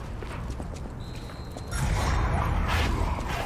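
Hooves of a donkey clopping in the video game Lies of P, a steady, fairly faint walking rhythm over a low ambient rumble that swells midway.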